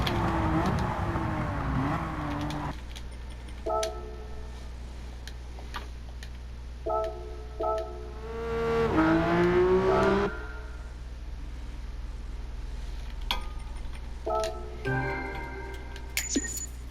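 Porsche 911 engine in the racing video game Gran Turismo 7, low steady drone punctuated by repeated ticking menu or tuning clicks and a brief rising rev surge midway; no talking.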